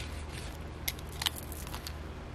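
Scissors snip paper for an envelope in a few short, crisp cuts, close and soft against a faint background hiss.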